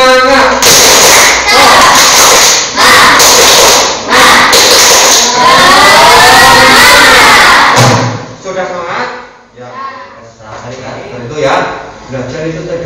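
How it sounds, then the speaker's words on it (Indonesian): Indonesian schoolchildren in a classroom doing a spirit clap, loud rhythmic bursts of group clapping with chanting voices that give way to quieter talk near the end. "Kita lakukan tepuk semangat dulu ya."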